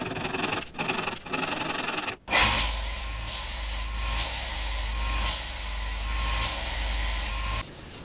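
A cloth wipes lacquer finish onto a walnut picture frame, a close and steady rubbing sound that runs for several seconds after a short opening scrape.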